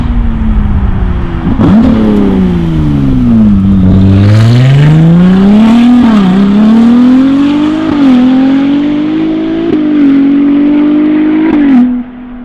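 A Ferrari 296 GTS fitted with a Novitec exhaust accelerates hard and loud, its engine note rising and dipping through gear changes for about ten seconds before cutting off.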